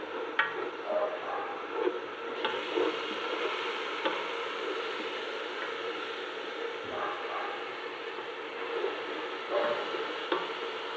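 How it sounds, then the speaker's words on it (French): Onion simmers in a pot for stuffed cabbage dolma with minced meat, producing a steady, moderate bubbling sizzle with faint clicks and stirring sounds throughout. "On va laisser mijoter un petit peu quelques minutes."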